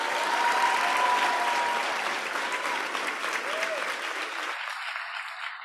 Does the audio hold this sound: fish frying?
no